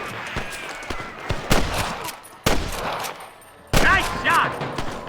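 Repeated gunshots ring out in a Western shootout in the video game Red Dead Redemption, with several loud, sharp cracks spread across the moment and a few nearby shouts.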